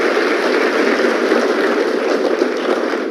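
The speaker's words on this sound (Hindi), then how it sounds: "तालियों में कमी नहीं रहनी चाहिए" Audience applause at an award ceremony, steady dense clapping from a crowd filling the whole stretch at a loud, even level with no voices over it.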